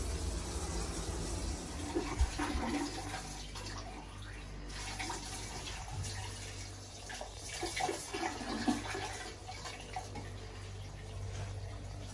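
Dirty water running steadily from a drain valve on a Viessmann Vitodens 050 gas boiler system during installation, a continuous faint splashing flow with no talking.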